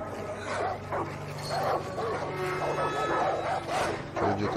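Dogs in the open-world shooter Far Cry 5 bark and yip in repeated loud bursts, close by, with whimpering between barks and a faint voice now and then.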